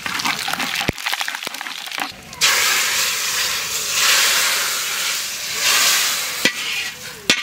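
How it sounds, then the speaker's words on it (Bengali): Bay leaf and whole dried red chilies hit hot mustard oil for a dal tempering, giving a sudden loud hiss and sizzle after a few light clinks, then a steady bubbling frying sound with occasional utensil taps. "ডালে ফোড়ন দেবো। প্রথমে দেবো তেজপাতা, গোটা শুকনো লঙ্কা,"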